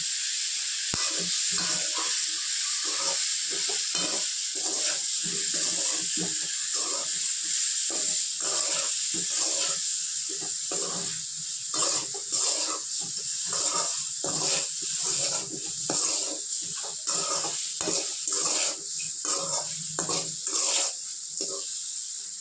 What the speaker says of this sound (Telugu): ఆ వంకాయల్ని మనం ఇలా ఈ ఆయిల్లో వేసి 4 పక్కల కలుపుతూ ఉండాలి